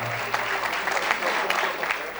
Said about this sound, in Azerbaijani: Alqışlayaq Fəqanı da hörmətli Rəhman dostumuzda